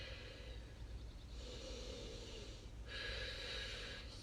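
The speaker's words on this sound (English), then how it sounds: "We're going to finish with 8 deep breaths" Deep breaths taken during an outdoor yoga session, slow inhales and exhales with a soft airy rush, close and quiet, with faint outdoor background noise beneath.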